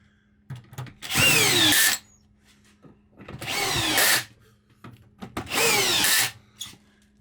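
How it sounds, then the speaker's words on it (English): Power drill set to torque 7 driving screws into an RV rooftop air conditioner unit, three loud whirring bursts of about a second each separated by short pauses, close by. "I take my torque setting to 7 on my drill"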